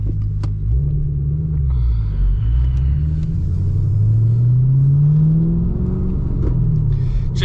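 A Camaro SS engine rumbles deeply close by, its pitch climbing and falling as it accelerates and revs, a heavy low growl that fills the whole stretch without talk.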